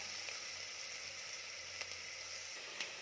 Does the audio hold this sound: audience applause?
no